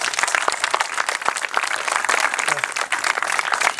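Steady, fairly close applause for the coaches at a primary school rugby clinic, many hands clapping densely and continuously for a few seconds.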